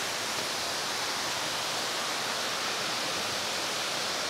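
Salipit Falls on the Kaytitinga River in Alfonso, Cavite roars as a dense, unbroken wash of falling water, loud and steady throughout with no other sound breaking through.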